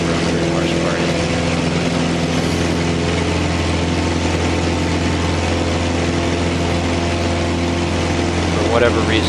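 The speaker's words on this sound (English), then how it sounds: "It's pretty impressive for a 100 horsepower engine." Steady, loud drone of a small single-engine propeller airplane with a 100-horsepower engine in flight, heard from inside the cabin as a constant hum with strong low harmonics throughout.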